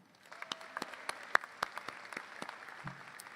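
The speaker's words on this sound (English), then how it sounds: "please give a huge round of applause for our co-advisor and host for today's event, Anya Confrancesco" Sparse applause at a collegiate honor society ceremony honoring the co-advisor and host, a scattering of distinct hand claps over a soft bed of clapping, fairly quiet overall.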